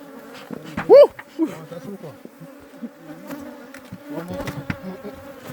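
Bees buzzing steadily at an opened beehive box during a hive inspection, a close insect drone with a brief loud burst near the start and some light handling noises.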